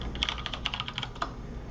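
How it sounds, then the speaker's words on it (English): Computer keyboard keys tapped in a quick irregular burst while modeling in Rhino software, a dozen or so light clicks close to the microphone over a low background hum, with no talking. "Man, I'm typing that wrong."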